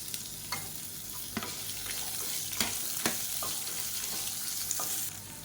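Small-chopped big onions frying in a pan for a gourd chutney: a steady, close sizzle runs throughout, broken by several sharp scrapes and clicks of stirring.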